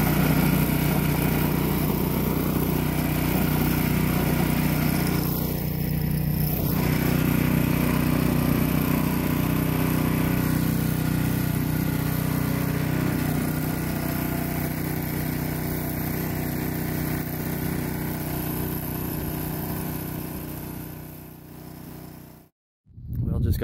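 A Yardmax 22-inch two-stage snow blower runs close by while clearing a driveway and walkways, its engine a steady, continuous drone that holds for over twenty seconds before briefly cutting out near the end.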